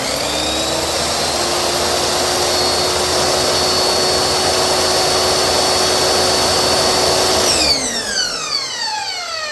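A Dongcheng DJX09-255 miter saw runs at full speed with a loud, steady, high whine, then winds down near the end as its pitch falls away.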